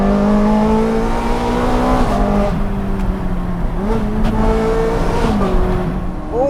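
Ferrari 430 Scuderia engine and exhaust on a twisty canyon road, heard from inside with a window cracked: a loud continuous drone that rises and dips through shifts, with rev changes and a brief climb near the end.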